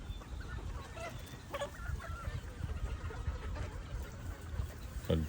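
A flock of WPC banded early bird gamefowl chickens clucking and calling softly over a constant, noisy outdoor background, with no one speaking.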